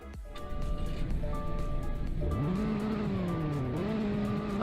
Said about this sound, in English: basic startup sound because it is just a 4-cylinder